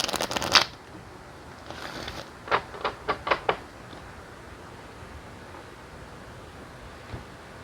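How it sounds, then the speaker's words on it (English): Tarot cards being shuffled in short crisp bursts: one riffle, a softer one, then a quick run of four or five snaps, followed by near silence. "One more shuffle and I will cut the cards."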